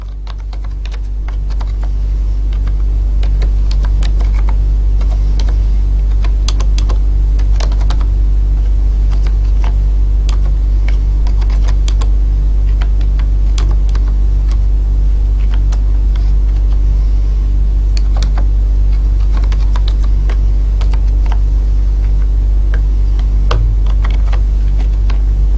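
Steady, fast clatter of typing C code on a computer keyboard, close and continuous for the whole stretch over a constant low rumble.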